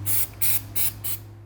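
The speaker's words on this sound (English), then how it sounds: "we're going to spray everything except the bolts with this right here" Four short bursts of aerosol undercoating spray hiss in an even rhythm, each about a quarter second long, sprayed onto the underside of an Audi R8, close and clear with no talking.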